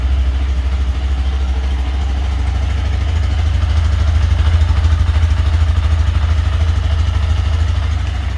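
A Honda Grom motorcycle on its stock exhaust runs close by with a steady, throbbing low putter that swells slightly in the middle before settling back, and no one speaks.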